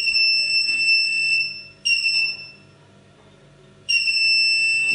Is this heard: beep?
yes